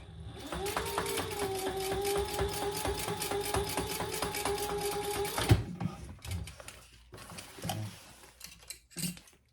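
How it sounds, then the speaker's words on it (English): A sewing machine top stitching vinyl on a bag gusset, running in a fast, steady mechanical rhythm with a whining motor tone for about five seconds, then stopping, followed by scattered handling clicks and rustles. "I'm going to top stitch on my vinyl 1/8 of an inch"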